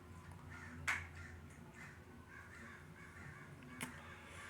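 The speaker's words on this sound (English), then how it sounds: "The crows still caws" A crow gives two short, sharp caws, one early and one near the end. Both stand out above a steady outdoor hum of low rumble and faint background noise, with no talking.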